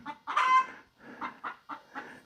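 Close-up clucking from a backyard chicken: one longer, louder squawk followed by a quick series of short, rhythmic clucks.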